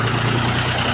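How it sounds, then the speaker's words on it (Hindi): Tractor driving past on a rural farm track, a close, loud, steady low engine drone with a chugging rumble that fills the short moment. "ये छोटे भाई का ट्रैक्टर जा रहा है"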